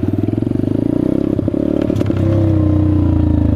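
A Peace Moto Chinese dirt bike putters in a rapid rhythmic idle, then revs up into a loud, sustained drone as the rider pulls a wheelie, close and without talk.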